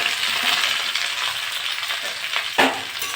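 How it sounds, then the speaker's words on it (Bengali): Okra and potatoes fry in a pan with cumin and dried chili, giving a steady close sizzle, with stirring scrapes and a sharp clink of the utensil near the end. "এটা নেড়ে চেড়ে 4-5 মিনিট আমি ভেজে নিয়েছি।"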